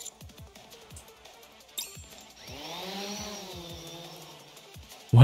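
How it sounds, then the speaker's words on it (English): A drone in the Goddess of Victory video game buzzes like a chainsaw, a rising, wavering motor whine that swells and holds over a low game soundtrack, with sharp impacts ahead of it and a loud hit at the end. "What is that? Oh, drone, okay. It was like a chainsaw."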